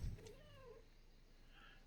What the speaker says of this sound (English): You probably heard my cat who's wanting some attention.